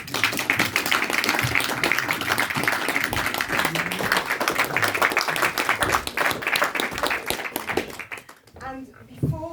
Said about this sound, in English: a very, very big round of applause for all the films screened tonight and all the filmmakers